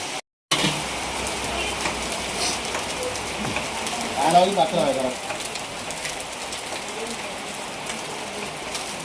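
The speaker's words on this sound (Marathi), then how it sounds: "एवढा पाऊस पडतोय बघा बाहेर" Steady heavy monsoon rain hiss in Ratnagiri, Konkan, fills the scene throughout, with a brief dropout near the start and a person talking faintly in the middle.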